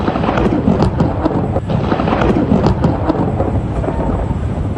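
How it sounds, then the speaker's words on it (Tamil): Light drizzling rain with thunder and lightning in Cuddalore, Tamil Nadu: a dense, steady, loud wash of rain with a deep rumbling undertone throughout and no voices. "கடலூரிலும் இடி மின்னலுடன் கூடிய சாரல் மழை பெய்தது"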